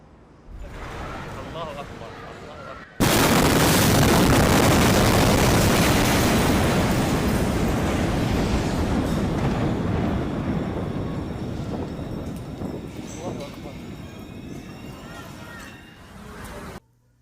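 A massive explosion in Beirut erupts with a sudden overwhelming blast partway through, its roar and rumble filling everything and slowly fading, after a quieter stretch of ambient sound during a bride's outdoor photoshoot.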